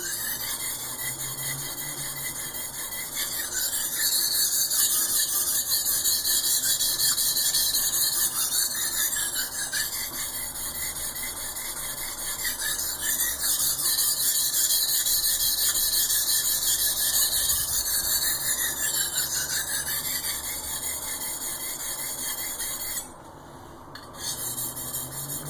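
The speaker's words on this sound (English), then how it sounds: "Now you'll see people usually sharpening at an angle like this to the stone." A knife blade rubbing against a sharpening stone produces a continuous high, scraping squeal in repeated strokes, close and clear with only a brief pause near the end and no speech.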